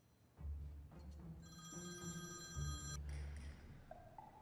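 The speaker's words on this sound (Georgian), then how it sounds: "ჩემი რეკავს." A mobile phone rings at moderate volume with a bright electronic melodic tone that repeats in short phrases over a low background hum. No one speaks.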